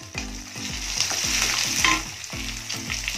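Chopped white garlic cloves sizzle and fry in hot oil for a makki dhokla dish, with a steady crackling hiss and repeated stirring scrapes, close and fairly loud, with soft rhythmic thumps underneath.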